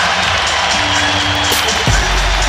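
Basketball arena crowd rising into loud, continuous cheering and roar during a Golden State Warriors fast-break play against the Suns, with a broadcast announcer's voice running underneath.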